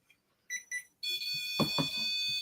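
A REM pod ghost-hunting device gives two short tonal beeps, then a sustained shrill electronic tone with warbling harmonics. The sound is close and fairly quiet, and no one speaks.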